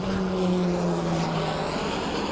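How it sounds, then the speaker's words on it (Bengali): An airplane drones steadily overhead with a broad, continuous engine roar, fairly loud and without any voices. "ও রে গ্যাস বিমানটা দেখুন"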